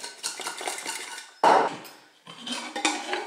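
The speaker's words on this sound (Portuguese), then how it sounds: "E agora é só mexer, mexer, mexer, mexer essa panela. Sacudir bastante, tá vendo?" Shredded chicken shaken and stirred in a pan, close and fairly loud scraping and rattling of utensil against cookware, with a sharp clatter midway, a brief lull, then more stirring.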